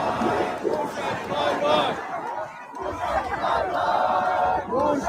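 A celebratory crowd in Toronto chants and shouts together in loud, sustained rhythmic bursts, with many voices close and overlapping throughout.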